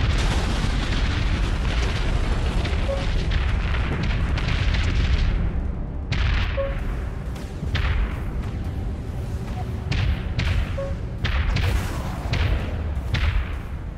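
Heavy ship weapons firing in the Dreadnought space combat game from a Tier 1 Akula Vektor dreadnought, a dense, continuous roar of booming cannon blasts and rumbling explosions, loud and close, with brief shifts in intensity and no speech over it.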